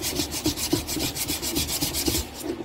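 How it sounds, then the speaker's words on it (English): Sandpaper scrubs by hand across a wooden Ghostbusters siren housing prop in quick, even back-and-forth strokes, a close, dry rasping with no talk. "I'm just finishing up the last little bit with um, some hand sandpaper"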